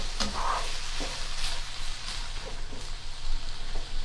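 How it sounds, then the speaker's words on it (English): Steady broadband sizzling from onions frying in a hot pan over slightly low heat, continuous and fairly loud, with faint stirring clicks and no talking. "I don't like the sizzle, not high enough"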